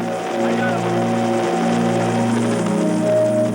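A military helicopter used for boarding ships at sea makes a loud, steady droning hum of rotor and engine that runs without a break.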